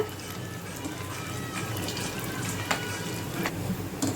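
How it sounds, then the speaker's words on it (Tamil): Rava gulab jamun balls deep-frying in hot oil, a steady close hiss and crackle with faint bubbling throughout and a few sharper pops, no voices. "இந்த மாதிரி எல்லாத்தையும் பால்ஸை பொரிச்சு எடுத்துக்கோங்க."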